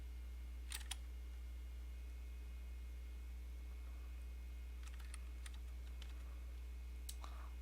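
A computer keyboard pressed for a shortcut while working in design software: a few sharp, quick key clicks in small clusters, close and clear over a steady low electrical hum in an otherwise quiet room.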